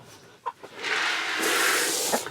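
Chickens of the American breast breed cluck and squawk inside a new hoop coop on a homestead, with a couple of short calls, then a sustained, fairly loud burst of flock noise that carries on steadily to the end.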